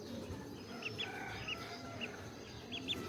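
Chickens and small chicks on a rooftop, with several short, high clucks and peeps scattered over a quiet outdoor background.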